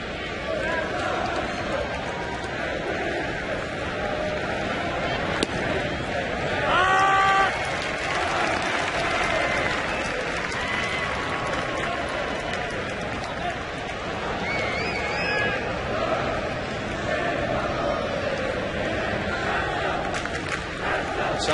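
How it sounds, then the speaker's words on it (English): Steady, dense roar of a large crowd at a Kansas City Royals at Washington Nationals baseball game in 2010, holding evenly throughout with a brief swell in the middle. "Sounds like a soccer crowd."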